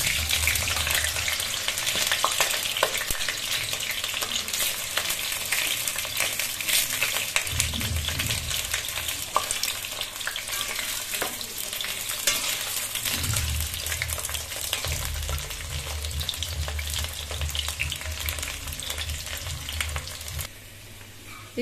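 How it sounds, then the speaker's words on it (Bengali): Potatoes and cauliflower frying in hot oil, a steady loud sizzle and crackle running throughout with occasional stirring clinks and low bubbling swells. "আলু আর ফুলকপিগুলোকে ভেজে নেব এবার"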